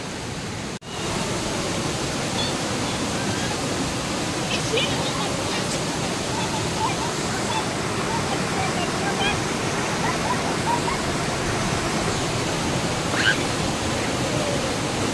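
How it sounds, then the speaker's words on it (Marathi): A waterfall gives a steady, loud, broadband roar that runs unbroken for the whole stretch, close and dense. "वादळा धबधबा"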